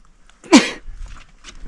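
A single sharp sneeze, loud and close, followed by faint rustling and quiet background noise.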